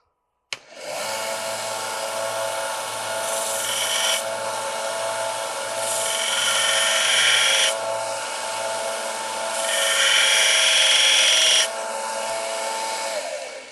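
Sanding an AK47 trigger part, a steady, close abrasive rasping with surging strokes that grow louder and softer over several seconds.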